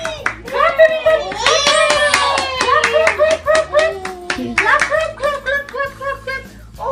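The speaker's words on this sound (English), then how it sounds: "Clap, everybody." Family members clap along at a child's birthday celebration, a burst of quick handclaps mixed with children's voices and excited chatter, loud and close throughout.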